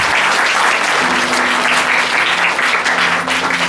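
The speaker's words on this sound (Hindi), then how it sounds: "ताली बजाएंगे परमेश्वर की।" Church congregation clapping together, a loud, dense, steady burst of applause filling the room, with no speech over it.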